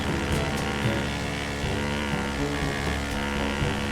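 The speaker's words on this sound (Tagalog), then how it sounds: "Grabe, ang bibilis ng mga motor nila" Fast motorbikes drag racing in GTA 5 produce a continuous, dense engine drone with layered high revving, steady and loud with no gaps.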